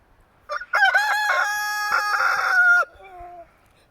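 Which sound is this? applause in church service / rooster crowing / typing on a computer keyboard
rooster crowing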